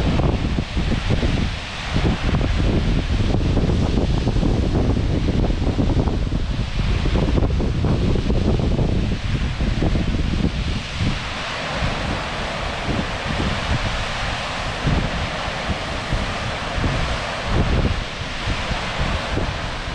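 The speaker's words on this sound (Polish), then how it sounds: "I jeszcze tutaj mamy taki malutki wodospadzik. I przepiękny szum wody." A small waterfall rushes with a loud, continuous broadband roar close by, a dense wash of falling water that swells and eases slightly over twenty seconds with no voices.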